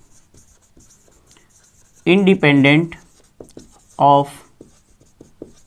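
A marker or chalk scratches across a board in short strokes during a Hindi biology lecture, the faint scraping continuing under and between the teacher's spoken explanation.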